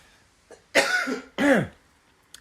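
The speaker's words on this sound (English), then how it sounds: "sorry, I'm coughing so much on this." Two harsh, close coughs in quick succession, the second deeper and rougher, with a faint throat noise just before them and quiet in between.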